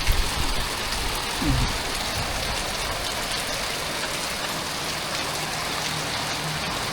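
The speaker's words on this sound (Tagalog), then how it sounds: "Nagsimula po yung ulan, bandang alauna." Steady heavy typhoon rain pours down in a dense, even hiss, with a few heavier splashes near the start and no voices.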